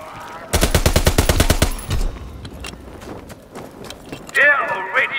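Rapid automatic fire from a Wimmersperg SPZ AR assault rifle in a WWII-themed video game cracks in a fast, loud burst of about a dozen shots, followed by scattered in-game clatter and a character's voice.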